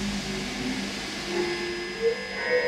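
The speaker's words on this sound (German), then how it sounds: "Man kann ihn zum Selbstoszillieren bringen." A Harley Benton Ultimate Drive distortion pedal pushed into self-oscillation gives off sustained whistling, ringing tones that drift and shift in pitch over a steady noisy hum.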